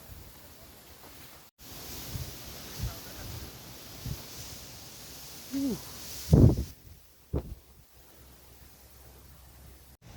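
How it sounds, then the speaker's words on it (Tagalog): Strong wind rushes and roars against the microphone on a mountain peak of Mt. Batulao, with a few sharp gusts buffeting louder near the end. "Ang lakas ng hangin."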